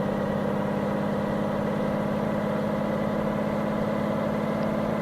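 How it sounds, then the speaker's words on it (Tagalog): A truck engine in Truck Simulator Ultimate drones steadily and loudly while straining under a heavy steel coil load. The low, constant hum has no pauses, and no one talks over it. "Ang bigat ng dala natin guys. Hirap na hirap yung makina."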